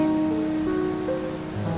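Steady rain patters and hisses across surfaces in the game Mandemon, a constant even downpour with no voices.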